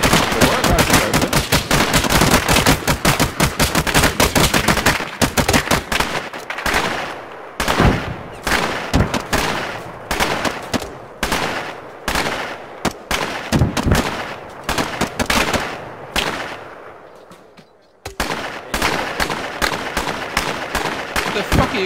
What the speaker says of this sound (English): What the fuck are you guys shooting at?